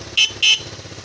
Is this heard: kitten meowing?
no